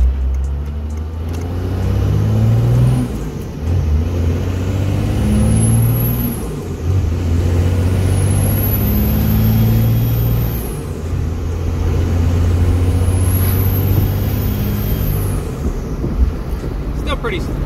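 A hotshot parts truck's engine revs and pulls away in repeated surges of rising drone, with high whines climbing over the rumble and someone talking in between.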